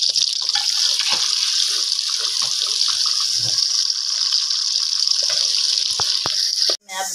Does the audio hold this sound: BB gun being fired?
no